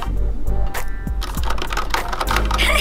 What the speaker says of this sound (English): Ito yung keyboard ko.